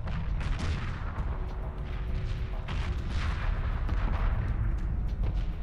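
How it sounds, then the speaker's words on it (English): A shipyard blows up in Homeworld 2 Remastered, a long rumbling roar of repeated booming blasts that stays loud and dense for several seconds. "Very dramatic explosion."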